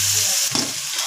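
Onions deep frying with salt in a pan for pasta, a loud close sizzle with a brief stirring scrape partway through.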